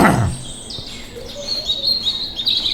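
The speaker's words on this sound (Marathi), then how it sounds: "कान देऊन ऐका, किती वेगवेगळे आवाज आहेत. प्रत्येक आवाज एका वेगळ्या पक्ष्याचा." Several birds calling in a mini forest bird park in Nagpur, a few clear chirps and tweets at moderate distance over a soft outdoor background, no talking.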